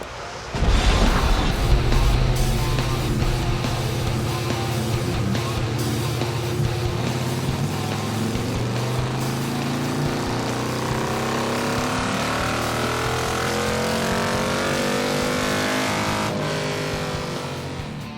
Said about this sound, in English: now we have our motorcycle rolled up on our dyno tuner